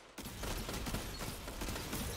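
The Malfeasance hand cannon fires in Destiny 2 PvP gameplay, a dense, loud burst of gunfire and effects filling a short stretch of game action.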